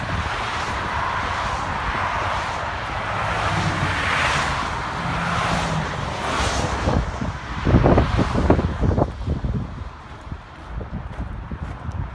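Vehicles rush past on a busy highway where the Appalachian Trail crosses it, heard from the roadside through heavy wind noise, with a louder pass near the end.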